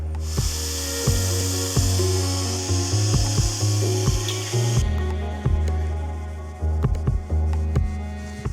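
Rhythmic rasping strokes of sanding scrape back and forth over a hazy, yellowed plastic Porsche headlight lens, close and steady, with a continuous hum underneath and no talking.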